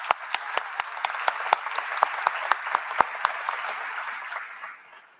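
A crowd at a high school class of 2023 graduation ceremony claps steadily in a dense patter with crisp individual hand claps standing out, fading away over the final second.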